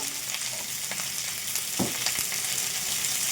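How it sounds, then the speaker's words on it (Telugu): Onion pieces frying in a pan for a tangy pulusu while being turned back and forth, a steady bright sizzle broken by occasional scraping stir strokes, close and continuous. "చక్కగా అటు ఇటు తిప్పుకుంటూ ఇట్లా మనము ఈ ఉల్లిపాయ ముక్కల్ని కాస్త ఫ్రై చేసుకోవాలి"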